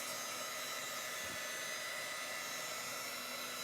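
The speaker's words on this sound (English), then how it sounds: "we're going to speed up the process with my dryer." A hair dryer blows with a steady, even whooshing hum, close and continuous throughout.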